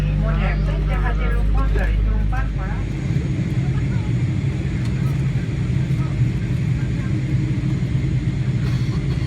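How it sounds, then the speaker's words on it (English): Low, steady rumble of a Biman Bangladesh Airlines passenger plane taxiing at Birmingham, a continuous engine drone that fills the whole clip without pause. "As you can see, the plane is moving and our flight left exactly on time."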